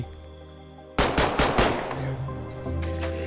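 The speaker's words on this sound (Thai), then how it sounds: "มันจะมีคนไม่ดีเข้ามายิงด้วยนะเพื่อน ๆ" Gunfire from attackers in the survival video game The Last Haven: after a quiet start, a rapid string of loud close shots bursts out, then trails into scattered cracks over a lingering hum.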